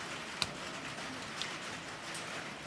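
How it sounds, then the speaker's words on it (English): Light drizzling rain on the way to Ijen Mountain, a soft, steady outdoor hiss with a few faint isolated drop taps, no talk. "Oh, it rains. It's drizzling."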